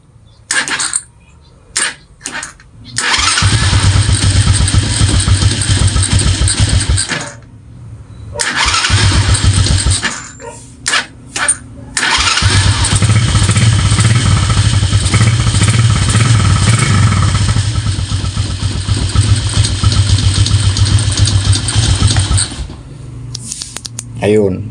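A motorcycle is started with its push-button starter and fired up several times, cranking and catching into a steady idle, with someone talking in between.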